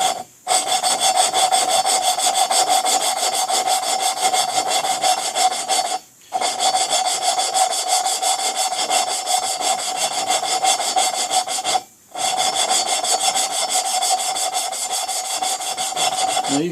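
Lapping-in of the valves on a 1976 Harley-Davidson Ironhead Sportster XLH1000 engine, a steady gritty rasping scrape repeated in long even strokes, close and loud, broken by two brief pauses.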